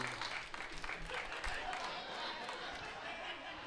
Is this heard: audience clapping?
yes